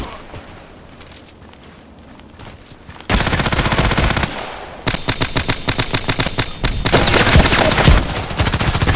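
Suppressed AS VAL rifle fire in the shooter game Contract Wars on the Old Sawmill map: quiet ambience, then loud dense bursts of automatic gunfire from about three seconds on, with short gaps between volleys.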